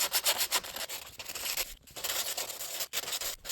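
Rusty car bodywork is sanded by hand with 150 grit sandpaper in quick back-and-forth strokes. The rhythmic scratchy rubbing is close and fairly quiet, with a few brief pauses between passes.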